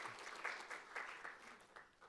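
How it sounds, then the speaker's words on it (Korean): A church congregation applauds to welcome newly registered members during a Sunday morning service, with a soft, fairly distant patter of many hands clapping together for a couple of seconds. "박수로 환영하겠습니다"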